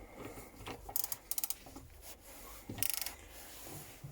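Rapid ratcheting clicks from a ratchet wrench loosening a bolt on a Renault Clio 2 dCi injector, two short bursts of fast clicking about two seconds apart, quiet and close.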